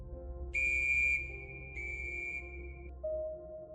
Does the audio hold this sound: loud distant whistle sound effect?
yes